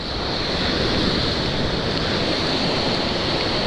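Sea waves surging continuously during monsoon weather, a dense, loud wash of surf mixed with wind buffeting the microphone, steady throughout with no talk.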